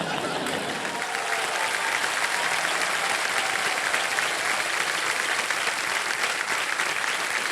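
Dense, sustained applause from women in a studio audience on a television quiz show, a steady wash of clapping from many hands that holds evenly for several seconds with no break.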